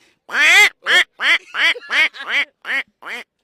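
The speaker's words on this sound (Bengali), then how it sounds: "এই হলো হাঁসের ডাক" A duck quacks eight times in a quick, loud, close series of nasal honks, with short pauses between calls.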